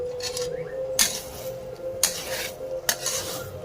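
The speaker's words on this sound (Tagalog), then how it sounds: "Haluin mo ulit." Food stirred in a pan with oil: a low continuous sizzle under three distinct scraping, clinking strokes of a utensil against the pan, spaced about a second apart, with no one speaking.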